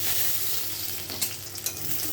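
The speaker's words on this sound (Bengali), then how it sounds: "কড়াইতে তেল দেবো ডিমটা ভেজে নিই" Egg frying in hot oil in a wok for a bottle gourd and egg dish, giving a steady close sizzling hiss with a couple of brief spatula scrapes near the end.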